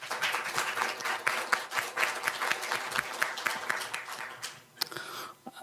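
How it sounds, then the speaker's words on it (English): A symposium audience on labour statistics gives a sustained round of applause for the moderator and speakers, with steady clapping that thins out near the end. "So please welcome all our moderator and speakers with a big round of applause."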